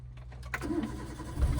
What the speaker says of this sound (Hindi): अब वापस क्लच दबा के इंजन स्टार्ट करो।